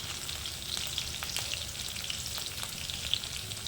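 Dried red chili frying in hot oil while cooking konaganti leaf curry, a steady dense crackling sizzle that stays loud and even throughout, close up with no voices.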